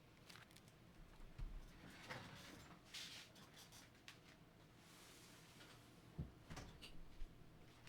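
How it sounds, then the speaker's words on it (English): A door is shut very quietly indoors with a few soft knocks and thuds, including a low bump near the end, over faint room noise. "I gotta shut the door."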